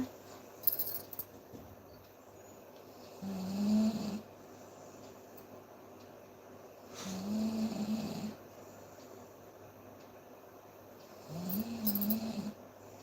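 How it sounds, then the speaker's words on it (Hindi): A man snoring in his sleep at night, three slow, evenly spaced rumbling snores roughly four seconds apart, close and moderately loud against a quiet room, with a faint clink at the start. "खर्राटे कौन मार रहा है?"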